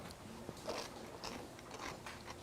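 A single crisp bite into a crunchy home-canned bread and butter pickle, followed by a few short crunching chews, close to the microphone and heard alone.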